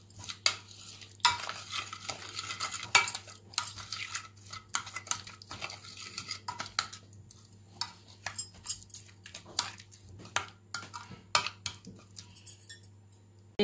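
A spice paste of green chilli, garlic, ginger and oil is stirred with a spoon, giving rapid irregular clinks and scrapes against the bowl, close and fairly quiet over a low steady hum.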